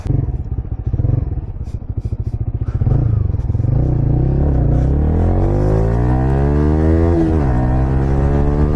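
A motorcycle with a modified aftermarket exhaust is ridden and revved through its gears. The exhaust note is loud, close and rasping, rising and falling with each pull and shift, with no talking.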